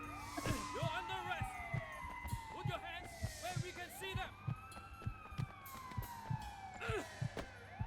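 A police siren wails in the video game Sleeping Dogs, sweeping up and down over a steady rhythmic thumping beat, fairly faint and continuous throughout.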